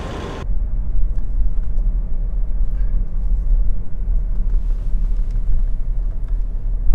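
A car rolls into the Cannery Mall lot off Front Street in Lahaina, heard from inside with a steady low engine and road rumble that holds at an even level, no voices.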